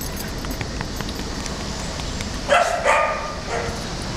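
A black dog tied to a fence on a hot day gives a few loud barks near the end, following a stretch of steady outdoor background noise.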